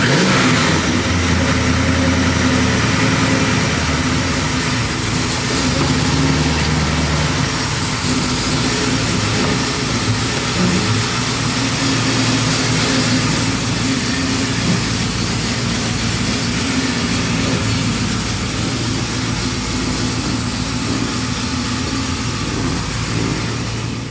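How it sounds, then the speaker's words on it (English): A 1973 Chevy Impala V8 with an aftermarket throttle-body fuel injection system running just after a cold start, a loud, steady, close rumble with slight revving variations throughout and no talking. "I generally don't have a problem cold starting. So I'll probably just let it run just for a little bit and let it settle down."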